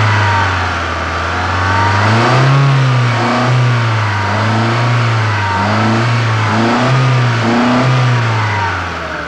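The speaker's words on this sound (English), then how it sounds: "The engine of the car runs very smoothly, it performs very well" A Ferrari 308 GTSi with no catalytic converters idles on Magnegas fuel, a steady, smooth mid-pitched engine note that rises and falls in gentle, repeated revs, close and loud without speech.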